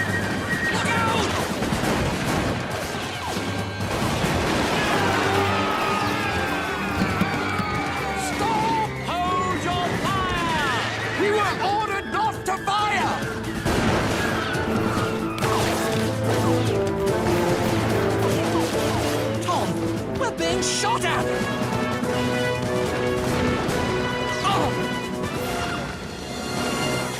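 Gunfire volley in an animated Revolutionary War-era history cartoon: loud, rapid bursts of shots crack across the whole stretch, mixed with shouting voices and a dense music score.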